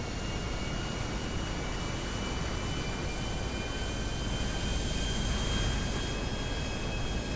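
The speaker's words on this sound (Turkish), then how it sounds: "İnanılmaz bir kalkış sesi var bu arada onu baştan söyleyeyim." A steady, dense roar of an airplane taking off in a flight simulator game, with a thin whining tone over the broad rumble and no break in the sound.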